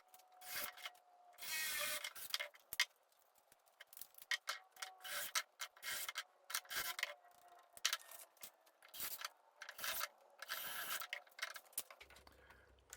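A 4-inch dust collection coupler is cut up with a hand tool in a workshop, giving quiet bursts of rasping strokes separated by short pauses. The sound is close and there is no talk.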